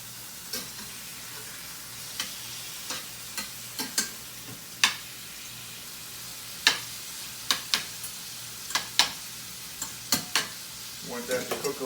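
Steak and onions sizzle in a pan under a soft steady frying hiss, punctuated by a dozen sharp clicks and taps of a utensil against the pan, clustering faster toward the end.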